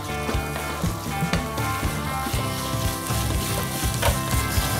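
Coconut-milk fish masala for karimeen pollichathu, pearl spot fish, bubbles and sizzles steadily in a pan, a continuous close bubbling hiss with soft stirring knocks and no talk.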